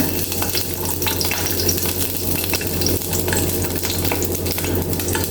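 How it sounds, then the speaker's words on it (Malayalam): Whole cinnamon, cardamom, clove and small shallots frying in hot oil in a pan, giving a steady broadband sizzle with light stirring scrapes and a low hum underneath, continuous and close throughout. "ഒരു കഷ്ണം പട്ട, ഒരു ഏലക്കായ ഇട്ട് കൊടുക്കുന്നുണ്ട്. ഒരു 3 ചെറിയ ഉള്ളി ഇട്ട് കൊടുക്കുന്നുണ്ട്."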